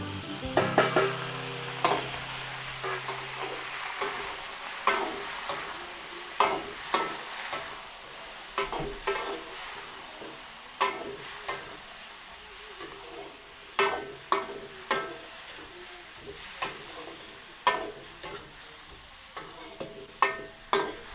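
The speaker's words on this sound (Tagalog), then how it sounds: "Maglagay tayo mantika. Igisa muna natin yung ating sahog." Oil and chopped ingredients sautéing in a pan while cooking pancit in a Filipino kitchen, a steady close sizzle broken by repeated sharp scraping and stirring clacks at an irregular rhythm, with no talk.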